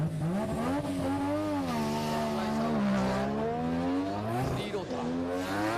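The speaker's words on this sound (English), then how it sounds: "You hear the difference in sounds that these engines make, that 20B hum." Mazda FC RX-7 with a 3-rotor 20B engine drifts at a D1GP round at Tsukuba, its loud, smooth buzzing engine note surging and dipping in pitch as the throttle is worked, close and continuous.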